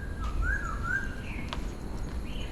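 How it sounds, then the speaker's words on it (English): Birds call near bamboo at a monastery in Hong Kong, giving a few clear whistled and chirping notes over soft outdoor ambience, with one sharp click partway through; nobody speaks. "I'm hearing some birds over there as well."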